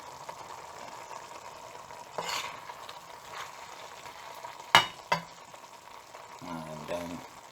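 Mutton liver masala frying in a pan with garam masala, stirred now and then, giving a steady low sizzle broken by a few sharp spoon scrapes and clinks against the pan.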